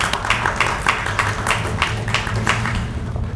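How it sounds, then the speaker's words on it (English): An audience applauds guest speakers at a community leaders' meeting, a steady dense patter of many hands clapping, fairly close and loud, with no voices over it. "So if you guys can give them all a round of applause for being here"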